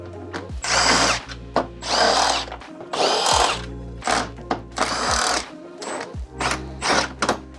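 Power tool with a T30 bit driving out bumper bolts on a BMW, loud whirring bursts of a second or so repeated several times with short pauses and clicks between, close up and alone.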